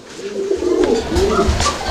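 Pigeons at a pigeon market coo in low, throaty, overlapping rolls, close and fairly loud, repeating several times over a brief stretch.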